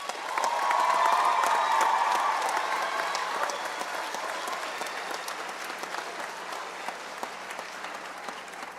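Graduation applause for students at Vancouver iTech Preparatory: a dense, sustained crowd clapping that starts loud and slowly eases off while staying steady and full throughout, with no talk over it.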